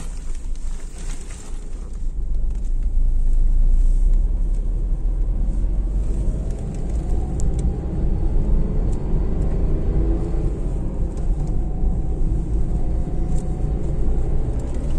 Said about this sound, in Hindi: तो अभी हम आपको एक बार नॉइज सुना देते हैं इंजन का।